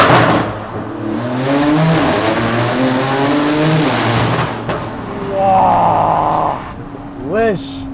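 A Porsche 991 Turbo S revs up in a tunnel, its engine note swelling and echoing loudly off the walls, with a brief hard burst near the end while people talk and exclaim throughout.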